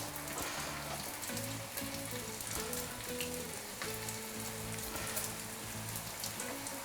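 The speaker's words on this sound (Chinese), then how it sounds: "慢慢去煎它，把它煎熟。" Lotus root patties pan-fry in a little oil over medium-low heat in a flat skillet, giving a steady, dense sizzle with faint crackles that carries on evenly throughout.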